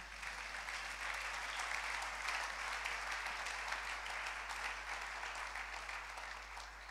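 A church congregation applauds at a French-language service, a steady, evenly sustained patter of many hands clapping, heard somewhat distantly over a low constant hum.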